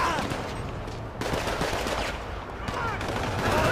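Rapid gunfire from the video game GTA 5 crackles in dense bursts, sharp shots stacking into fusillades with brief lulls between volleys, loud and close.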